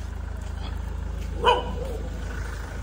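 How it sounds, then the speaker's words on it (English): A single sharp dog bark rings out near the middle of the clip over a constant low mechanical hum, with nothing else prominent. "Why are you barking?"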